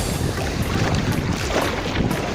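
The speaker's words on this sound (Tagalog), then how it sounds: "Lakas yung alon ngayon." Strong sea waves roll in at Dukhan Beach in Qatar, a loud, continuous wash of surf with rumbling low-end buffeting from wind on the microphone, steady throughout with no voices.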